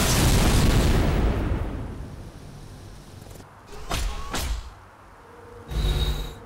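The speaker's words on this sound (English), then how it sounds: "Authorization for orbital attacks granted." In Civilization: Beyond Earth, an orbital attack fires with a loud, deep rumbling blast that fades out. Sharp zaps and booms follow, then a final burst.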